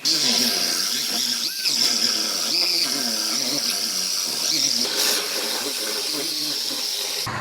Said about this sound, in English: I'm gonna go ahead and get this outer panel cut off